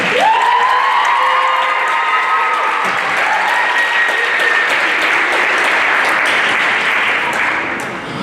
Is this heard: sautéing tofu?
no